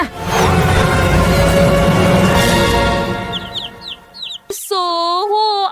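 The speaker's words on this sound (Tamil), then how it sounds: "கோழி அங்கே முட்டை உடைக்கிறது" A chicken clucks in short, bright bursts near the close, following several seconds of loud, dense rushing noise.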